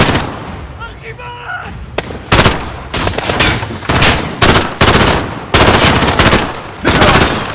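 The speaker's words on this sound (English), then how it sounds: "The gunshots, of course." Machine gun fire in the Call of Duty Modern Warfare video game, loud, rapid bursts repeating across the whole stretch with brief gaps, mixed with other battle noise and shouted voices.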